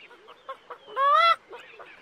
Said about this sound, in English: It sounded like hens and ducks, but there aren't any here.